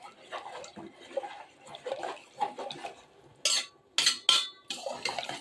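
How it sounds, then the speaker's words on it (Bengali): Metal spatula scraping and knocking against a cooking pot while drained rice is stirred for pushpanna, a large-batch sweet rice dish. Irregular scrapes and clinks come close up, with a few sharper bursts near the end. "যাতে করে দলা না পাকিয়ে যায় সাথে সাথে ভালোভাবে খুন্তি দিয়ে নিয়ে দিতে হবে"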